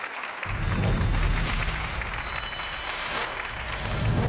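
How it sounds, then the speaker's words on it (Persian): A studio audience applauds on a television talk show, a steady wash of clapping from many hands that starts abruptly and holds at moderate loudness for several seconds, with a faint whistle partway through. "تشویقشون کنین"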